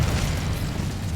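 Incendio fire spell cast in the Hogwarts Legacy video game, a dense roaring whoosh of flame with a deep rumbling body, loud and sustained for about a second.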